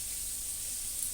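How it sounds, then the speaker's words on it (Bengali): Chicken pakoras frying slowly in hot oil over a low flame, a steady, even sizzle and hiss that holds unchanged throughout, close and moderately loud with no voices. "এরকম করে ভাজছি পকোড়াগুলো"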